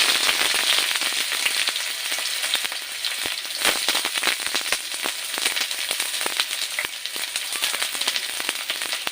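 Onions fry in hot oil in a wok, a loud, steady, crackling sizzle with dense popping throughout.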